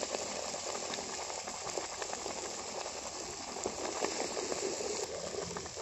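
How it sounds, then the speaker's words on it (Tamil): Curry leaf thuvaiyal bubbles and hisses in a pan on the stove while being stirred, a continuous close steamy simmer with soft rattling and no talking. "இதுவாக அடுப்பேறிட்டு இந்த மாதிரி கிண்டி கிண்டிட்டு நல்லா கொதிக்க வைக்கணுங்க."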